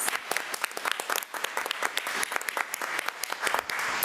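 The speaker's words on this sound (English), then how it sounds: "Let's give Kiera Jones another round of applause." Applause for a student honored at a school board meeting, a room of people clapping steadily with sharp individual claps standing out, moderately loud for several seconds with no talk.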